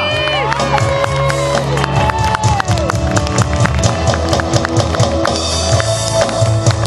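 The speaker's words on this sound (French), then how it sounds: "j'aimerais que vous applaudissiez comme il se doit à la basse et au cœur" A live concert crowd at a French show cheers, whoops and applauds loudly and continuously for the bass player, with music and stage sound mixed underneath.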